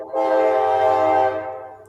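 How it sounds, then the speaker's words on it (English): A passing train sounds a long, loud horn blast with a rich harmonic tone, close by and steady before fading toward the end over low rumbling rail noise. "Stupid train. that's you, Bruce? Yeah, there's train right there."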